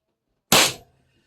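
A First Strike foam dart blaster fitted with jul V2 springs fires a single shot, a sharp, loud pop that decays quickly into silence.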